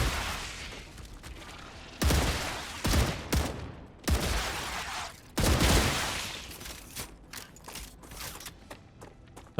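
Automated turrets in the sci-fi game StarRupture blaze away in dense, loud bursts of rapid fire, with rattling mechanical clatter and a fight against swarming bugs, no voices present.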